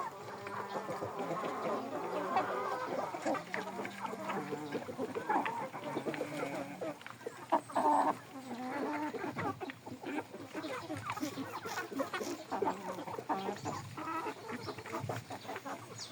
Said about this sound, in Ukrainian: Так, це лівенський. Півник пішов гарненький.